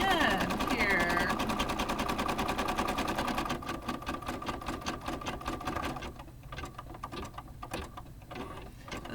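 A sewing machine runs a rapid, steady stitch on a buttonhole for a fabric Valentine's treat bag, close and continuous, its rhythmic clatter slowing slightly toward the end.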